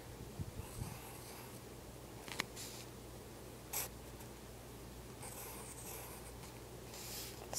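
A pen drawing a cartoon cupcake on paper, with close scratchy strokes in short bursts separated by quiet pauses.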